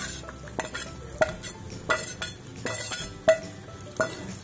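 Dry bangda (mackerel) added to cooked vegetables with brinjal in a pan and stirred, giving regular scraping spatula strokes and light metal clinks about every half second over a faint sizzle, without talking.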